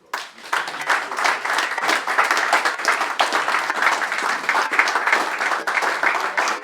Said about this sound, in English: Please join me in thanking her with a round of applause.